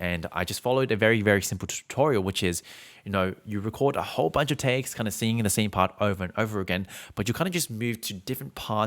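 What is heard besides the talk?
None of the usual background noises is heard.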